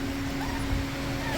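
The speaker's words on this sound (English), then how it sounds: "you got this guy barking at us" Puppy whimpering and yipping in short high cries, close by, with a steady background hum underneath.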